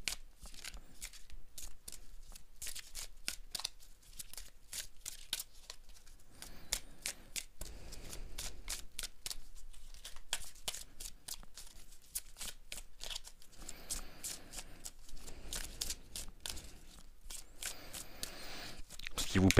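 Tarot cards being shuffled by hand, a steady run of quick, crisp riffling flicks that repeats close and fairly quiet, with a soft voice speaking intermittently underneath.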